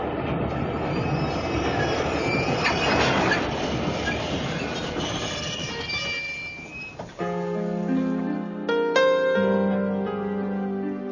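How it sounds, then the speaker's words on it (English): Trains rumble and clatter to a halt in a radio drama sound effect, a dense rolling roar that fades out before music with sustained tones takes over. "And now let us stop these trains."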